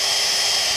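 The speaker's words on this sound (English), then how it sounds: "just drill a hole" Power drill boring holes into a pipe for a worm-composting tube in an organic raised garden bed, a steady high-pitched whine running loud and continuous with no pauses.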